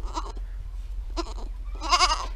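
A goat bleats three times, loud and close, with short wavering cries separated by brief pauses, the last one longest and strongest.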